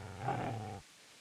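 A single low, rumbling dog growl from a video game, close and fairly loud, lasting under a second before cutting off abruptly into near silence.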